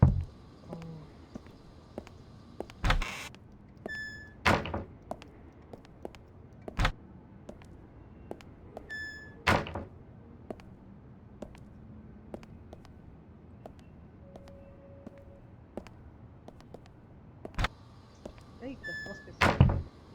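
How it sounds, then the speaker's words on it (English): Knocking on a door in the video game Unheard, heard as a few sharp, separated raps spread through a quiet interior ambience with faint background sounds. "Who's that knocking?"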